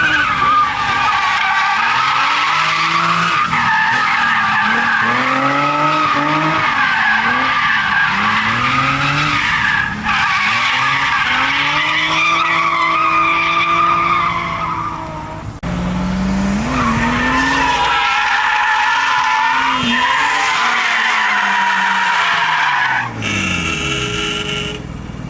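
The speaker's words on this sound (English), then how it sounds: "It's just part of drifting." Car tires on an R32 Skyline being built for drifting screech and squeal in long wavering skids, loud and close, with the engine revving underneath and no talking.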